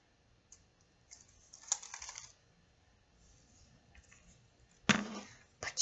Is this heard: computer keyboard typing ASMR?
yes